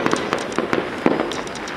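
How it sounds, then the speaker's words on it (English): Fireworks bursting about a mile away near Caesarea or Mount Carmel in Israel, a quick irregular series of muffled pops and crackles with a steady outdoor background and no talk. "There's fireworks happening over there."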